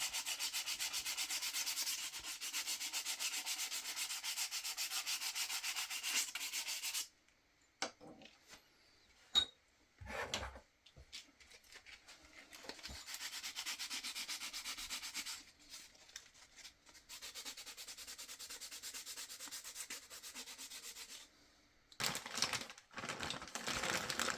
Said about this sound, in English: I still gave them a quick sanding to smooth out the surface and remove any old finish